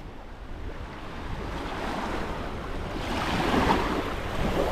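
Sea waves wash and surge continuously at Matala beach on the south coast of Crete, a broad steady roar that swells slightly louder toward the end, with some wind buffeting the microphone.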